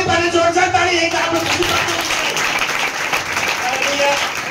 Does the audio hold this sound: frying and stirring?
no